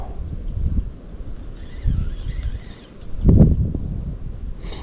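Wind gusts buffet the microphone in low, rumbling surges that swell and fade several times during outdoor spinning-rod fishing, with faint high tones in the background.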